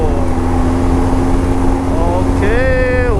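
A BMW R1200GS motorcycle cruises at speed along an empty highway, its engine holding a steady drone under constant wind rush, with a rising whine climbing near the end.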